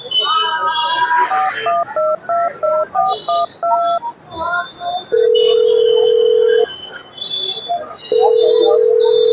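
A mobile phone is dialled in a run of short keypad tones, followed by a long ringback tone that sounds twice with a gap between, and faint talk and street noise behind.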